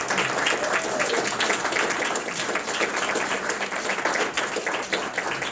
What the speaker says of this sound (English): And I'd like you to give a loud applause to Barry Maher down here